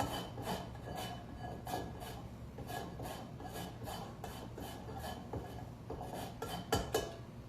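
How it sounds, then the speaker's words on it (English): Steady raspy scraping of a small grater taking the zest off a lime, a quick repeated rhythm of strokes close up with a few small metallic knocks, no talking. "I'm just going to grate off all of the zest on the outside of the lime"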